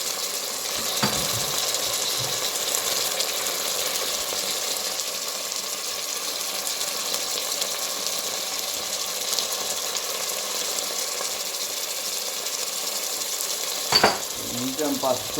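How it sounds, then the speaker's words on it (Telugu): Onions sizzle in oil with ginger garlic paste and turmeric for a keema curry. A steady close hiss carries throughout, with a few stirring scrapes and a louder clatter of the spoon near the end, and no talk. "దాని తర్వాత అల్లం వెల్లుల్లి పేస్ట్ వేసుకొని కొంచెం పసుపు"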